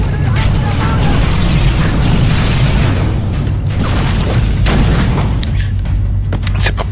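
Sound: gunfire in the video game Secret World Legends

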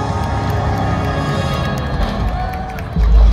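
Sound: concert crowd clapping and cheering

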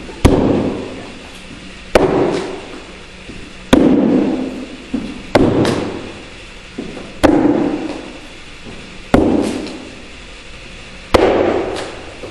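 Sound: throwing knives hitting a shield

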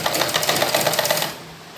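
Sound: sewing machine stitching lace onto a suit sleeve

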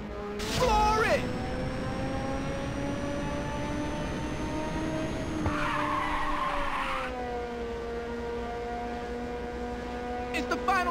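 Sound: race car accelerating and skidding in Ridge Racer 2 video game

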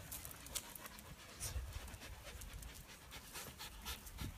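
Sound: dog panting

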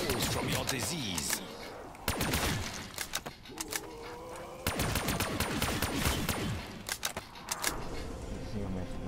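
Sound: burst-fire weapon gunfire in a zombies video game

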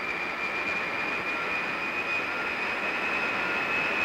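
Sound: jet engine running in animation

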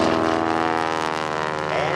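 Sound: PT-17 Stearman biplane flying aerobatics at airshow

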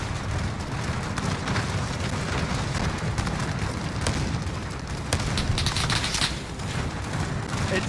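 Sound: gunfire in Call of Duty Vanguard, video game

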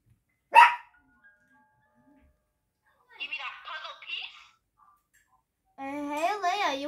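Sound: dogs barking

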